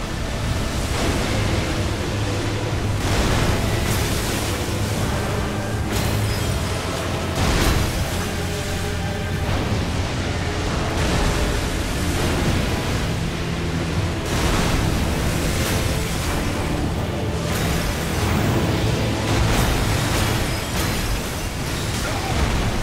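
Elden Ring explosion in-game, a long sustained roar of rumbling, surf-like noise with repeated bursts lasting over twenty seconds, loud and dense throughout.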